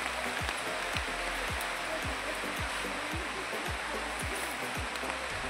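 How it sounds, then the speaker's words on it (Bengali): Heavy rain falls in a steady, dense hiss that fills the whole scene, with a faint rhythmic low thumping running beneath it and no clear speech. "ভালোই বৃষ্টি হচ্ছে এগুলো"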